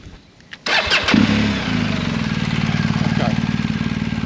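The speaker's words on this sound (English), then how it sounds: "I'll just fire the bike up because they're not coming on, hang on." A BMW motorcycle engine cranks briefly and fires up, then settles into a steady, loud, rhythmic idle close by, preceded by a moment of quiet.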